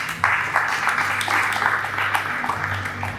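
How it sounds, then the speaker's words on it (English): Scattered clapping from a crowd, moderately loud, with a murmur of voices underneath throughout. "I think it deserves a round of applause."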